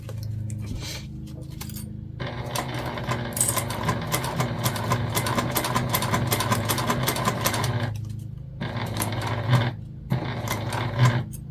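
A domestic sewing machine stitches slowly over the bulky zipper tabs of a fabric ID holder, with a steady rapid mechanical chatter broken by short pauses and restarts, close and alone.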